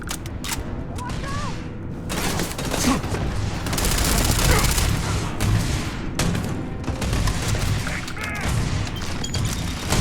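Rapid gunfire in the video game Starfield, dense bursts of shots with crashes and mechanical clatter layered over a constant loud game din, with a voice briefly heard between volleys.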